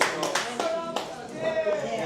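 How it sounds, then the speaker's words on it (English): A small group of people at a leadership conference in Sydney claps for Sarab, a brief burst of scattered, uneven applause with a few distinct sharp claps close by. "We just clapped him."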